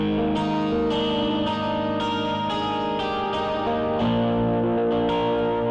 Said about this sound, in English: You've got this fantastic crunch guitar, so it's an electric guitar.